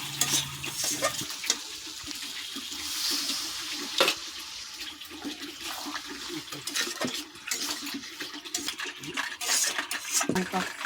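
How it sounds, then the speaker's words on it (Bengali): Crab curry masala in a pan being stirred and mixed as a little water goes in, with steady sizzling and scraping throughout and a few sharper clinks and splashes, no talking. "এবার অল্প করে জল দেব।"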